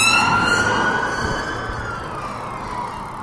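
A police car siren sounds steadily in the upper range as it passes a cyclist on a road, holding loud at first and easing slightly, with low rumbling traffic noise beneath and no talking.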